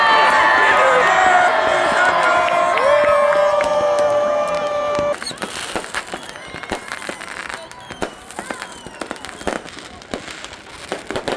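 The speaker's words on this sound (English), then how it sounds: "Big crowd here in this park." A big New Year's Eve crowd gathers in a park in Miraflores, Peru, with a steady outdoor bustle, sustained tones early on, then scattered crackles and pops of fireworks over murmuring voices.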